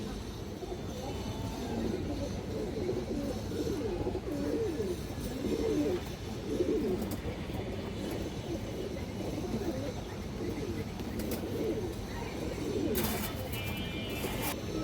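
Pigeons, including a Maxi Giribaz hen, coo softly and continuously close by, a dense, low murmuring chorus that runs throughout without pause.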